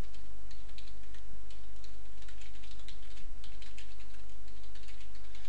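Steady typing on a computer keyboard while text is entered into a website sidebar, a continuous run of close, light key clicks over a constant low hum.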